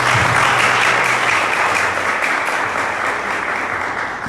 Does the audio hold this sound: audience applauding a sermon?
yes